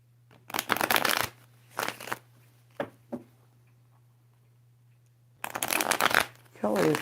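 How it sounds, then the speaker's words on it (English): Tarot cards riffle and flutter in several short bursts at close range, separated by quiet pauses over a steady low hum, with a final longer shuffle at the end. "let's get a shuffle first"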